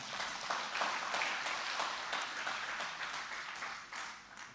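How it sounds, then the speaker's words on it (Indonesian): A church congregation claps for God during a sermon, a broad, steady wash of many hands that stays fairly even and moderately loud throughout, slightly thinning toward the end. "berikan tepuk tangan bagi Tuhan kita"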